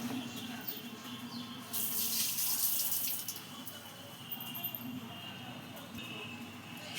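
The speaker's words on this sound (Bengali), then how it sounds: "সামান্য একটু জল দিচ্ছি, এই যে সামান্য একটু জল দিচ্ছি" A little water poured into mashed pointed gourd being prepared as paste in a home kitchen, a brief splashing pour of a couple of seconds over a steady low background hum.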